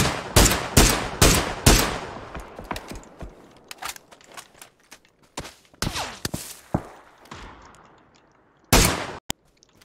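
Gunfire in a video game shooter: sharp, close shots come in quick clusters, several bursts early and then sparser single cracks, with clanks and footsteps between, and a final pair of loud shots.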